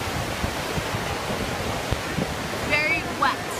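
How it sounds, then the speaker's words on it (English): Yosemite waterfall heard from close to its base, a loud, steady broadband rush of falling water that fills the whole clip, with a brief faint voice near the end. "I think this is the closest we can get to the bottom of the waterfall."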